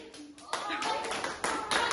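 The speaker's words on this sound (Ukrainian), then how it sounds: "оплески мені за гру" Children clapping after a classroom hugs-or-high-fives game, a few short bursts of close, loud claps broken by brief pauses.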